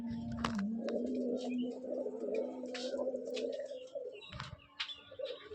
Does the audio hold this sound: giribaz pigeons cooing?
yes